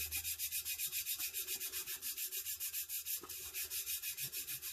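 A tumbler coated with 3M adhesive spray is burnished by hand, giving a steady run of quick rhythmic rubbing strokes, close and fairly even, with no talking.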